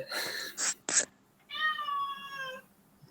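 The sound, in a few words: cat meowing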